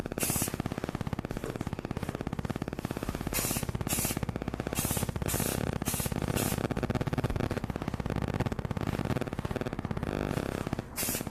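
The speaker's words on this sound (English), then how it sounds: "you don't want to spray it too thick because it might drip" Spray paint hisses onto a mason jar in repeated loud bursts, each a harsh broadband spray with short pauses between, close to the listener.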